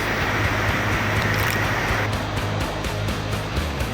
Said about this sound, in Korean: 유속이 빠르니 이건 뭐 계곡을 넘어 폭포 같았습니다.